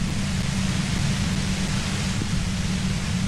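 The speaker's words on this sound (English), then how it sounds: "If you've got something really important to say, you can do it through the white noise" Constant white noise hiss from the video game Disco Elysium, a steady broadband static with a low humming layer underneath, unbroken and fairly loud throughout.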